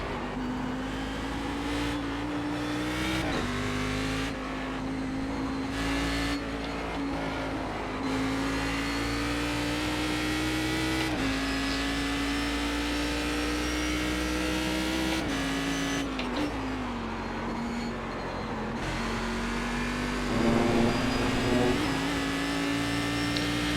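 A Cadillac CTS-VR race car in the iRacing sim, running the Global Challenge at Summit Point, gives a steady, loud engine drone throughout, its pitch stepping up and dipping with gear changes and throttle.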